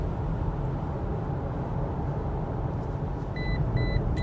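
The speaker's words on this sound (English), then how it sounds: "if you go outside of your lane, it beeps at you" Short electronic lane departure alert beeps in quick bursts near the end, over a steady loud rumble of road noise inside a moving 2020 Toyota Tacoma TRD Sport.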